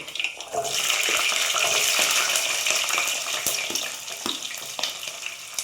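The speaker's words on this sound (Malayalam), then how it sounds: "ചൂടായിട്ടുണ്ട്. അതിലേക്ക് കടുക് വയ്ക്കുന്നുണ്ട്." Mustard seeds fry in hot oil for a mango pickle, a loud, dense, steady sizzle with scattered popping crackles, heard close up with no talk.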